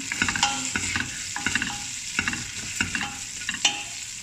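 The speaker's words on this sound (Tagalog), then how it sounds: "isasangag lang natin yan hanggang sa mag-brown" Nest pasta toasting in a pan until brown, stirred with a utensil that scrapes and clicks steadily over a low sizzle, close and fairly loud.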